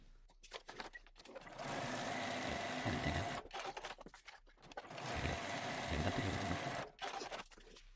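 A sewing machine stitches fabric with a quarter-inch seam in two bursts of rapid mechanical stitching, each a few seconds long, separated by short pauses with small clicks.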